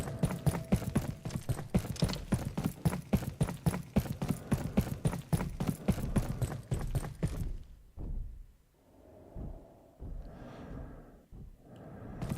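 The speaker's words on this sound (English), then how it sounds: "There's also those heavy footsteps we can hear." Heavy footsteps in a video game thud in a fast, steady run of strikes for several seconds, then stop, leaving quieter scattered mechanical sounds and breathy noises.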